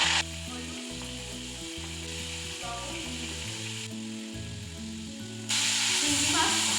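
Prawns fry in hot mustard oil in a kadai, a constant bright sizzle and hiss that swells louder near the end, heard under steady background music.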